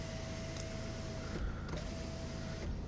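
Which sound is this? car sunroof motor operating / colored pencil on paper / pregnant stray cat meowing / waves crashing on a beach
car sunroof motor operating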